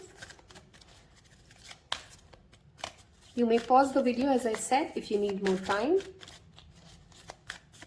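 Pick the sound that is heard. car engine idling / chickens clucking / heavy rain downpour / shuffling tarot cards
shuffling tarot cards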